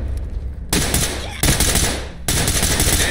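Bursts of automatic gunfire in a video game firefight with friendly fire, loud and close, three dense sustained volleys separated by brief breaks.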